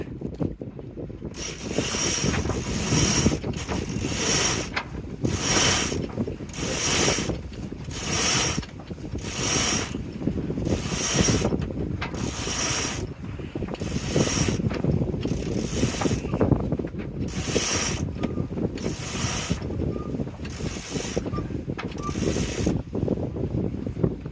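Aboard a Snowgoose Elite 37 sailboat, a winch ratchets in rhythmic repeated clicks as a line through a snatch block hoists the gennaker sock, about a dozen regular pulls under steady wind noise.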